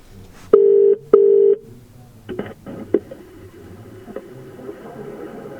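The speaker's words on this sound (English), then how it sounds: "Let's call Grant, shall we?" A phone placing an outgoing call: two loud steady tone beeps, then a few quieter clicks and short blips, heard alone with no talking.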